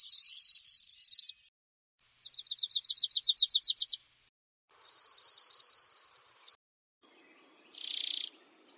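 Warbler songs played back from the birdJam HeadsUp Warblers app on an iPod: four separate high, thin bursts, first a few buzzy notes, then a rapid rising series of trills, a long sweeping buzz and a short final burst, with silence between them.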